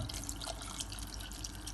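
Tap water runs steadily into a cooking pot for chorba soup, a continuous close splashing and hiss with no pauses.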